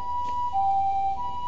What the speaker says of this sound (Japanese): 救急車が通ってくるまで待ちましょうか。